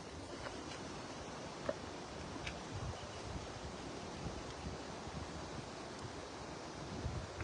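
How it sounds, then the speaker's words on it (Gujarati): Mahisagar river running in flood near Padra, bank to bank, a steady broad rushing wash of water mixed with wind buffeting the microphone, continuous and fairly faint with no voices. "જે રીતે આપણે જોઈ રહ્યા છે ખૂબ પાણી હાલ અહીંયા આગળ વહી રહ્યું છે"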